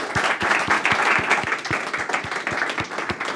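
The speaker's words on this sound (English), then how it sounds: "round of applause for Daniel again." Audience applause at the close of a talk at a GlasgowJS meetup, steady dense clapping from a room of people for the whole stretch, with a few louder individual claps standing out near the front.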